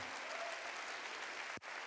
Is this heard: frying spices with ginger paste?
no